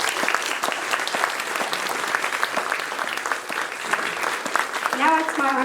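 An audience at a talk with a physician applauds in dense, sustained clapping from many hands, fairly close. A voice starts speaking near the end.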